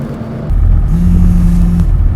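Low, loud car engine rumble that swells after a brief quieter moment and then holds a steady idling drone with a faint tonal hum.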